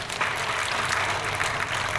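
A church congregation applauds during a sermon, a dense, steady wash of clapping from many hands filling the room for a couple of seconds without talk.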